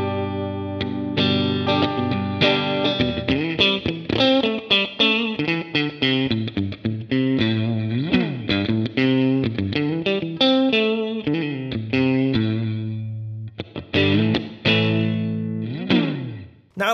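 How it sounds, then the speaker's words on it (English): Clean, edge-of-breakup electric guitar played through a Mooer S900 into a VX30 amp, ringing chords and single notes sustaining steadily and loud throughout, with no talking. "let's hear what this clean tone sounds like"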